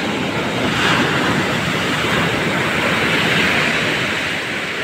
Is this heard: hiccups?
no